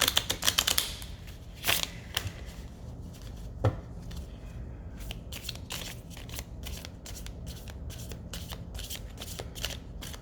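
Playing cards riffled and shuffled by hand at close range, a burst of rapid flutters at the start followed by repeated shorter crisp riffles and taps, quiet and alone.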